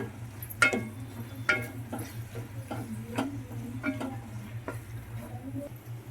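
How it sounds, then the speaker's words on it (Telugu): Ginger-garlic paste fries in a pan for an egg tomato curry, a soft steady sizzle with a spatula scraping and tapping the pan at irregular intervals and a low hum underneath. "చక్కగా పచ్చి వాసన పోయే వరకు వేయించేసుకుందాము దీన్ని కూడా"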